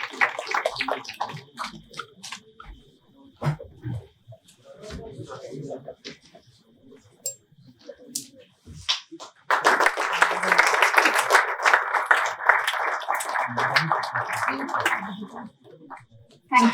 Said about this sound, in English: let us welcome this occasion with a round of applause once again